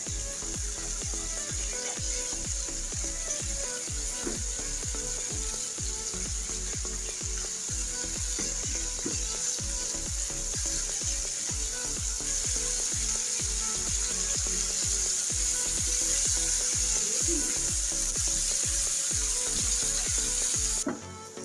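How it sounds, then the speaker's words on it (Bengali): Beef fries on medium heat in a pan, giving a continuous close sizzle and crackle throughout with faint rhythmic stirring. "এখানে চুলার আঁচটা মিডিয়ামে রেখে তারপরে ভেজে নেবেন"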